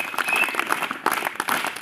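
Audience applause at a Zilla Parishad high school function in Mujgi, Nirmal, as guests are invited onto the stage: dense, steady clapping from many hands, continuous throughout, with no speech over it.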